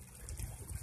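Liquid gushes in a steady low stream as fuel is poured out of a gas tank near the petcock opening during a rinse, a continuous close splashing pour with no talk.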